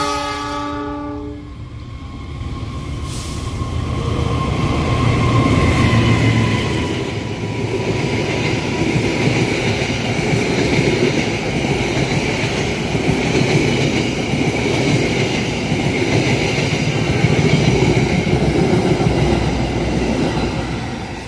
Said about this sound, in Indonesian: Kereta api Turangga.